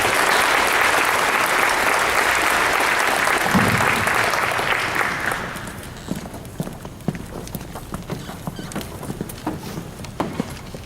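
Audience applause at a high school senior awards ceremony for scholarship recipients, loud sustained clapping from a large crowd that fades over several seconds into scattered individual claps.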